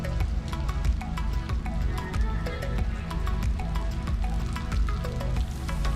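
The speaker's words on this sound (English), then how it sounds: "a little bit of rain makes it even more interesting." Light rain drips steadily across an empty early-morning festival ground at WOMAD near Malmesbury, Wiltshire, England, a close, continuous patter of scattered small drops with no talk.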